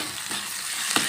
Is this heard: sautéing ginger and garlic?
yes